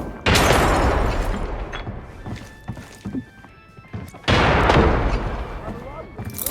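Grenade blasts in the shooter game Arena Breakout, two loud, sharp explosions about four seconds apart, each followed by a decaying rumble, with scattered thuds and gunfire in between and a voice talking over the action.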